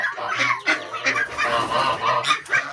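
Backyard chickens, said to have diarrhea, clucking and crooning repeatedly at close range, with short louder bursts over a steady murmur of hens and no voices.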